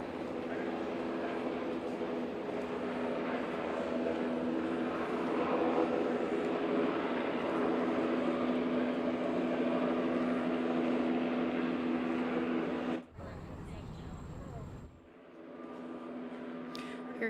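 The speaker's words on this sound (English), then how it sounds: "You're hearing multiple helicopters and planes overhead" Several helicopters and planes pass overhead during an outdoor funeral procession for a late senator, as the casket is carried up steps. A steady, loud droning rumble holds for most of the stretch, then drops away briefly before returning, with faint talk underneath.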